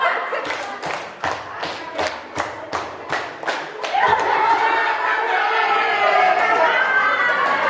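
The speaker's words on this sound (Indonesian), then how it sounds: "tepuk tangan untuk kita semua Bapak Ibu" Teachers at a school training session clap in a rhythmic group pattern, about a dozen sharp unified claps in a beat, then the clapping dissolves into a looser burst of applause with crowd chatter and voices underneath.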